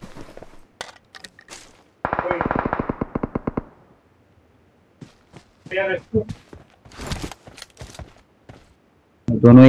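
Gunfire in the PUBG mobile battle royale game played on a Nubia Red Magic 3 phone, a rapid burst of automatic shots followed by scattered single shots and footsteps, with players talking in between.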